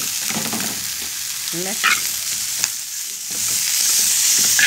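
Onion, tomatillo and other vegetables frying in a pan, a loud steady sizzle with stirring scrapes, close to the mic, and a brief spoken word partway through.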